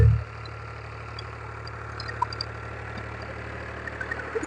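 A tractor engine idles steadily after ploughing a field, a continuous low rumble at even volume with a few faint clicks and knocks, no voices.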